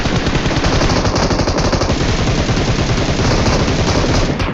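Dense, loud automatic gunfire from the video game PUBG Mobile, with rapid overlapping bursts of shots rattling continuously for several seconds and no pauses.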